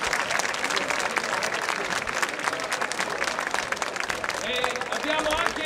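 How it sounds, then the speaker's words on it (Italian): Dense, steady applause from an audience at a boxing event in Monfalcone, honouring the fighter after his bout, with scattered voices and whistles mixed in throughout. "vorrei tributaste un applauso per"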